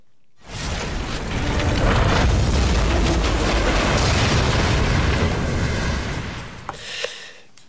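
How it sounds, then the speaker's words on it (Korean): An old-fashioned explosion sound effect played on a Korean radio quiz show: a sharp onset into a long, loud, roaring rumble that sustains for several seconds before thinning out with a couple of faint crackling pops near the end. "굉장히 옛날 폭발 소리가 되는데요"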